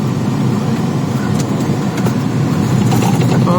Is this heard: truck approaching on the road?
yes